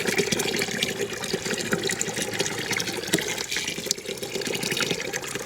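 Water runs steadily from a tap and gushes into a container for feeding chickens, a continuous close splashing flow.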